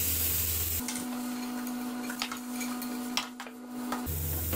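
Tomatoes go into a hot frying pan with salt and black pepper for a sandwich filling, bringing a steady sizzle with scattered stirring scrapes and clinks under a constant electrical hum.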